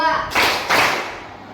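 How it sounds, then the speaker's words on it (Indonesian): Two sharp hand claps about half a second apart, close and fairly loud, then quiet. "tepuk 2, tepuk 1, tepuk 2, tepuk 3"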